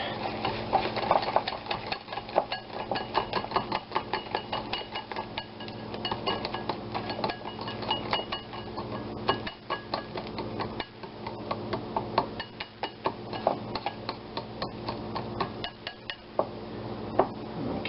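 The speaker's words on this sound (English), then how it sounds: "another 1/3 cup of the Splenda, which we will whisk together" A whisk beats salt and Splenda together in a bowl, producing a fast, continuous run of light clicking and scraping against the sides, close and steady, with no speech.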